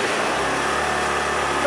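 A car engine holds a high, unsteady idle after its throttle setting has been pushed past the idle threshold, droning loud and close with a steady hum and no clear rev changes.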